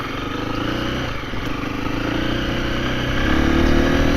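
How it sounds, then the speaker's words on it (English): A 2024 KTM 350 EXC-F dirt bike with a 13-tooth sprocket idles along in first gear with no throttle, a steady close chugging engine drone that swells slightly toward the end, no voices. "the bike's just pulling itself along in first gear"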